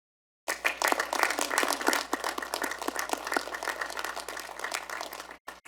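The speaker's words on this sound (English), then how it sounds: "Would you please give them a round of applause?" Sustained round of applause from a commencement audience honoring staff, dense steady clapping from a large crowd that starts abruptly and continues for several seconds before cutting off.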